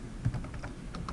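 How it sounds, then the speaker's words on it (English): Keys on a computer keyboard are typed in a quick, uneven run of soft clicks, close and fairly faint, with no speech. "I'm typing this out"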